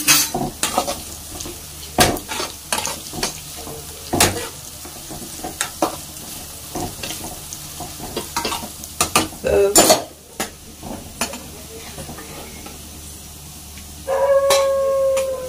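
Onions frying in a pan after bitter gourd was fried separately, with a soft sizzle under repeated stirring and sharp utensil scrapes and clinks against the pan, irregular and close.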